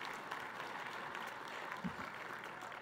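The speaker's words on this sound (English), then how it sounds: "Big round of applause." Applause from a banquet audience at a Hall of Fame celebration, a steady wash of clapping hands heard at moderate distance and holding evenly throughout.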